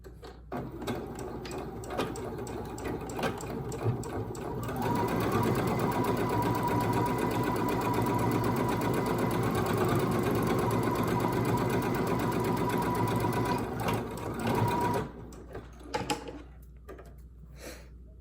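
A sewing machine stitches a curved seam on a fabric face mask, running in short bursts, then one long steady buzzing stretch of about ten seconds, then stopping, close and clear.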